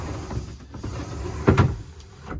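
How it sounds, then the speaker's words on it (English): A cabin sliding door on a 2017 Quicksilver 855 Weekend cruiser boat slides and clunks once, a brief nearby rattle and knock amid soft background hiss. "Sliding door."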